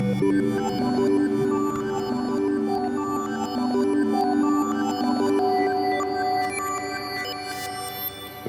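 A modular synthesizer sequence with reverb plays steady tonal notes that hop randomly between octaves, a continuous pattern of bright pitched steps with lingering tails, moderately loud and without speech.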